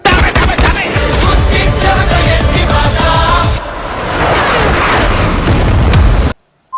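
Gunfire in a film scene: loud, dense, rapid bursts of shots and booms mixed with a music score, briefly dipping before a final roar cuts out abruptly.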